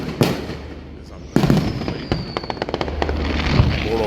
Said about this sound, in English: I'm also enjoying the fireworks outside.